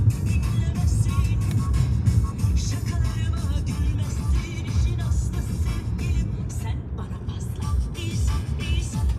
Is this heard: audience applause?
no